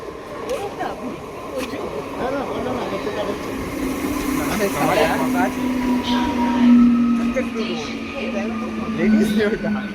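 A local train rumbles into a station with a steady low drone and some squealing tones, while people talk nearby over the noise.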